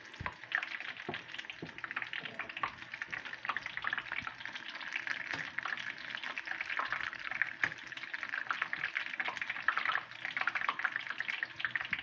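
Calamari tempura deep-frying in hot oil, a steady dense sizzle and crackle that continues without a break, close and fairly loud, with no talking.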